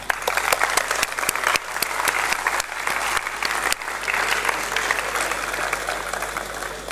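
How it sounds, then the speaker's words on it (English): An audience at a smartIDEAthon hackathon event at GITAM applauds steadily for about seven seconds, a dense, continuous wash of many hands clapping with no talk over it. "Please give them a big round of applause."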